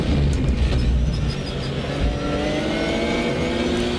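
A RUF RT12R GTR3 race car in RaceRoom at Imola, its engine loud and close, revving hard and held high, steady and unbroken throughout with no talk.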